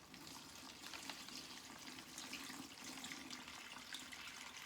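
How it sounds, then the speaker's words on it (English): Water is poured steadily into a plastic bag while mixing pottery glaze, a faint continuous splashing trickle lasting a few seconds with no talking. "I'm just gonna hold the top of my plastic bag, and I'm gonna pour it in carefully"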